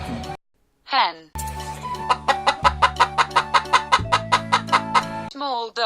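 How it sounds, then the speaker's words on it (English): A toy hen clucks in a quick, regular series of about fifteen loud, close pulses over a steady synthetic tone, with a brief child-like voice before and after. "Hen."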